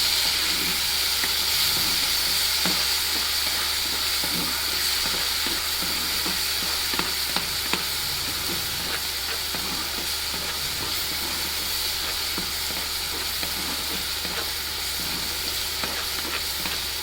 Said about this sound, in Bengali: রসুন পেঁয়াজ বাটা দিচ্ছি।